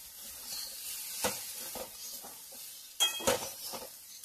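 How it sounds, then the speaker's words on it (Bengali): A spoon stirring dal and chopped coriander in a frying pan, with soft scraping and a few sharp clinks against the metal, quiet and intermittent with no voices. "দিয়ে একটু নাড়িয়ে নেব।"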